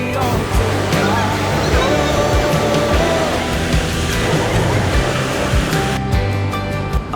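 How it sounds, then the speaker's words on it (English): Swift mountain stream fed by ice melt from surrounding peaks in the Valley of Flowers, Himalayas, rushing loudly and steadily throughout as a dense broadband roar. "Another swift mountain stream, carrying ice melt from the surrounding peaks, rushed down to nourish the Pushpavati River."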